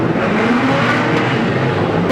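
Street stock race cars, including Ford Falcon and Holden Commodore entries, roaring hard off the start of a West Australian title race at Carnarvon, a loud dense wall of engines and exhaust noise without any break.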